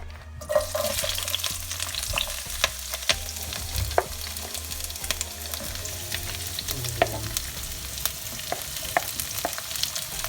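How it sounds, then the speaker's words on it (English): Chopped chilies sizzling and frying steadily in a pan for a vegetable stir fry, a continuous close crackle with scattered sharper pops and light scraping, no voices. "so he's about to fry them"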